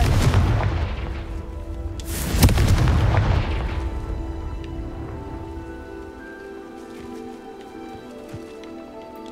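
Confringo fire spell fired at a cage in the Hogwarts Legacy video game, one heavy booming blast near the start that fades into a long crackling, rumbling tail, with no talk over it.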